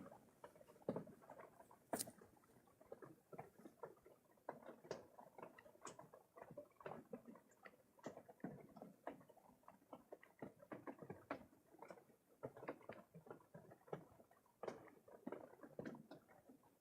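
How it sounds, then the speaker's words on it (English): Rain pattering on a metal roof, a quiet, irregular stream of light taps and ticks scattered unevenly over about seventeen seconds, heard from indoors beneath the roof with no voices. "It sounds like rain on a tin roof."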